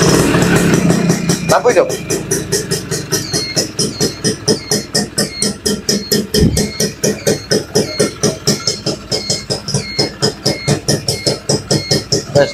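A Suzuki FR80 motorcycle engine runs steadily up close, its rapid pulsing exhaust beat continuous throughout, with a brief voice speaking over it early on.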